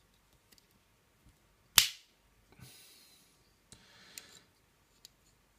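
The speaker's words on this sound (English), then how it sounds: "really nice scissors." Leatherman PST II multitool scissors make one sharp, loud snip, followed by a few quieter cutting snips and clicks, close up in an otherwise quiet room.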